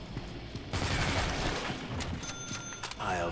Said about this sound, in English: I'm just absorbed in this zombie shooting action